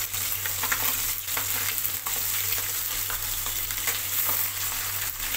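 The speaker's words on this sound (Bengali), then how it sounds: "এবার মাছগুলোকে উল্টে দেব।" Bata fish fry in a hot wok, a steady dense sizzle throughout with scattered scraping knocks as the pieces are turned, close and fairly loud, no voices.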